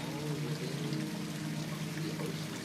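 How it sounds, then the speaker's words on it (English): A small trickling waterfall in a water feature pours steadily, a continuous close splash and burble with no pauses. "Higher frequency to the small trickle waterfall on the left-hand side of it."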